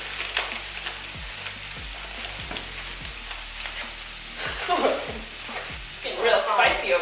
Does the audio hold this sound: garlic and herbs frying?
yes